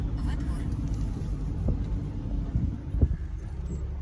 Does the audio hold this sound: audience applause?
no